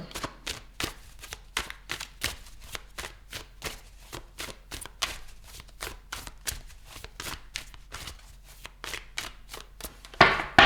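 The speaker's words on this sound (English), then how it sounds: "I'm going to clarify the cards, pull some advice for you." Tarot cards are shuffled by hand in a quick, regular run of crisp riffles and slaps, close and fairly loud, for about ten seconds, ending in a louder clatter as a card is pulled. Nobody speaks.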